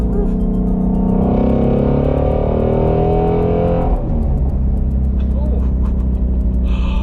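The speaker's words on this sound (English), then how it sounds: "That's rev matching right there." A Ford Mustang Mach 1 engine roars loudly while rev matching, revs climbing and then dropping sharply before settling into a rumbling idle with a few blips.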